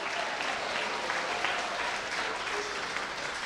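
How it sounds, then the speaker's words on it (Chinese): Warm, continuous audience applause follows a string orchestra's performance at a Christmas concert; many hands clap steadily at an even level throughout, with no speech over it. "我们再次给他们掌声"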